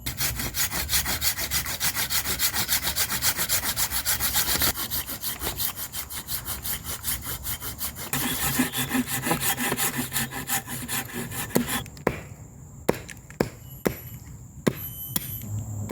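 Wooden log stakes are sawn and sharpened into points in a jungle, a steady run of rasping saw strokes that later gives way to a few sharp chopping knocks on the wood, near and loud, with no voices.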